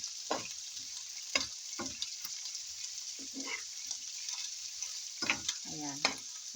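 Chicken tapa frying in a pan with a steady sizzle and occasional stirring scrapes, close and continuous with no talking.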